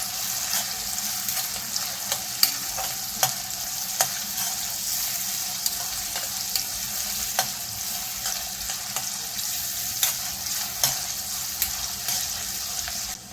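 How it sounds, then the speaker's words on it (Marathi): Chopped onion fries in hot oil with cumin and mustard seeds for misal. A steady, close sizzle runs throughout, broken by regular sharp taps and scrapes of a spoon stirring against the pan. Nobody speaks. "आता इथे हा कांदा चांगला मऊ होऊन द्यायचा आहे."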